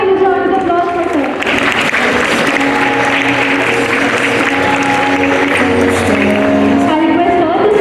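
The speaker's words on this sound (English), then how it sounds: "Can we have a huge round of applause for her?" Applause at a school Teachers' Day celebration, a dense, sustained wash of clapping from a large audience, loud and continuous, with a voice carrying over it and what sounds like music underneath.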